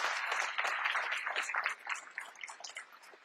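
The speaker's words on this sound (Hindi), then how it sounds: "जबरदस्त जोरदार तालियां।" An audience claps for achievers at a DXN gathering, a dense burst of applause that starts full and gradually thins out over a few seconds.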